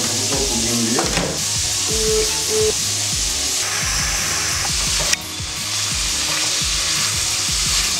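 Onion and ginger paste frying in olive and sesame oil, a loud, close, continuous sizzle with repeated scraping and knocking of a spoon stirring the pan and one sharp clack partway through.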